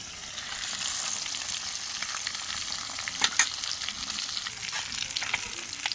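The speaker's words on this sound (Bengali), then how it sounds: "এরকম করে আমি সব এক এক করে সব ভাজবো।" Fresh fish frying in hot oil gives a dense, even, close sizzle with faint spattering pops and a couple of brief clinks partway through.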